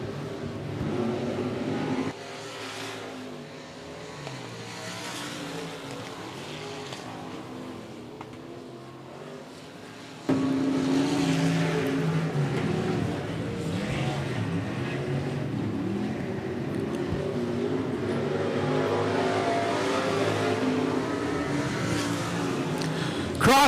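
Dirt-track race cars roar around the 105 Speedway oval, a continuous dense engine drone that swells and surges louder midway as the pack passes closer, with a faint announcer voice beneath.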